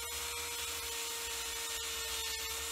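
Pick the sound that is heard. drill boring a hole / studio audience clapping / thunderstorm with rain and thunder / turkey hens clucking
drill boring a hole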